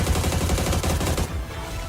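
AUG rifle fire in a battle royale video game, a dense rapid burst of loud automatic shots that cuts off partway, followed by lingering game noise.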